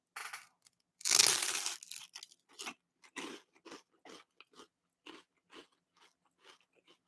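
A loud crisp crunch of biting into toast spread with preserves, followed by a run of close, rhythmic chewing crunches that gradually soften.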